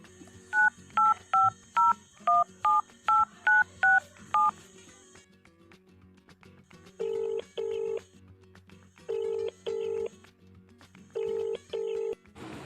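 A rapid run of about ten keypad beeps as a number is dialed, followed by several paired ringback tones spaced out with short pauses between.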